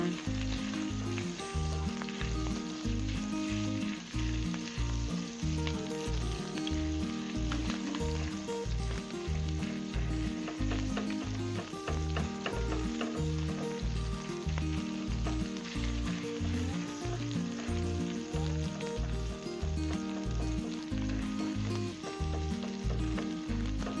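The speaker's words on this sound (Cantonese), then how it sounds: "因為係梅香鹹魚，我哋只要炒多幾下，咁佢就會變成鹹魚蓉㗎啦" Mui heung salted fish, cut into small bits, stir-fried in oil in a wok for dry-fried green beans: loud continuous sizzling with a steady rhythmic scraping pulse from the constant stirring, no talk.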